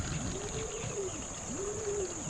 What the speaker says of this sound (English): And we've got some new pigeons